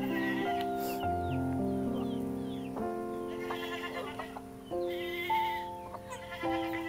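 A goat bleats several times in wavering, nasal cries, fairly close, with brief pauses between calls and quiet background.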